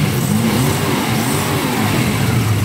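1972 Jaguar E-Type Series 3 automatic roadster V12 engine revving repeatedly, the pitch rising and falling in waves, loud and close with a rough, throaty rumble.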